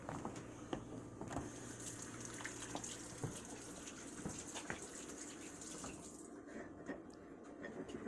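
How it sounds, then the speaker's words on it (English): Tap water running steadily over hands being washed at a kitchen sink during scone baking, a continuous faint gushing splash that stays even throughout, with no voices. "I'm going to wash my hands"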